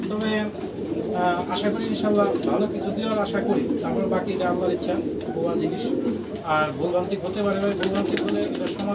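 Fancy pigeons cooing at a pigeon farm, dense overlapping throaty coos and warbles from many birds close by, continuous and fairly loud, with faint voices in the background.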